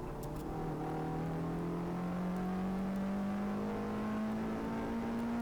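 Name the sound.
Peugeot 106 engine revving on track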